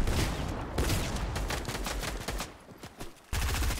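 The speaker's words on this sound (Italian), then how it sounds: "Mi sparano da dietro di qua." Gunfire in a Fortnite tournament match, with rapid bursts of shots and loud sustained volleys that drop off briefly before another burst resumes, close and dominant, with no talk.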